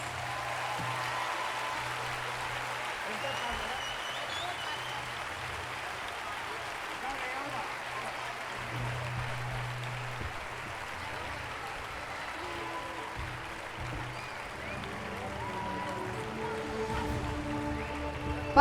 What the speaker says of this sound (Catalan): ara sí que us demano un fort aplaudiment per tots ells